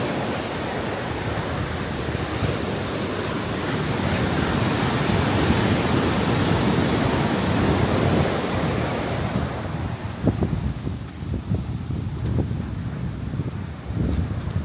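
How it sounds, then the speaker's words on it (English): Steady roaring surf fills the air, waves crashing and washing continuously, with gusty wind buffeting the microphone. "some waves kicking up today."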